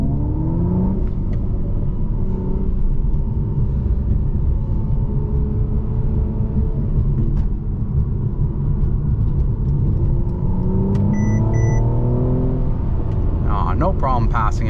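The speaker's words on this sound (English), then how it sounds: "It's got lots of power. So it's a V6, about 362 horsepower." A 2018 Mercedes-Benz C43 AMG with a roughly 362-horsepower V6 drives in Sport Plus mode. A steady engine rumble with rising acceleration tones runs throughout, heard from inside the cabin under conversation.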